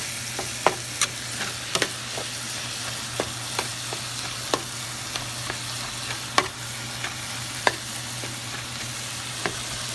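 Chicken larb frying in a pan, a steady sizzle under repeated sharp spoon taps and stirring scrapes at irregular intervals, close and without talk.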